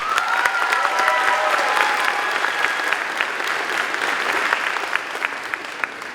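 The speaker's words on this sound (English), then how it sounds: "Please give them a round of applause." Sustained applause from an audience at a 5th grade moving-on ceremony at Visger elementary school in River Rouge, Michigan, dense steady clapping with faint cheers, loud throughout and tapering slightly at the end.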